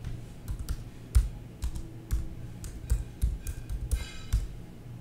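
Typing on a computer keyboard, close and fairly quiet, with irregular clusters of key taps and a few sharper clicks spread across a few seconds.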